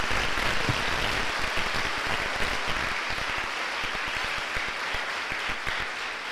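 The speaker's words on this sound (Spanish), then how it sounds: "yo quiero que ustedes mismos se den un aplauso," Dense, steady applause from a large audience at a Holy Week church retreat, with many hands clapping at once, filling the space loudly and continuously, with no talk over it.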